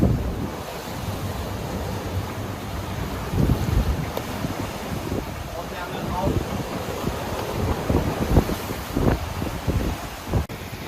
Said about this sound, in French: On a un vent à grains, un temps à grains.